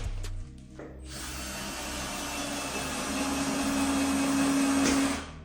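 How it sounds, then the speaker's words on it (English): A power tool whirs steadily and close by for several seconds while a sim racing shifter is bolted into place, the pitch rising slightly before it stops. "Time to place it and bolted it into place."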